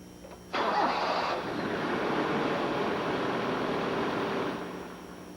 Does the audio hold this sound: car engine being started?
yes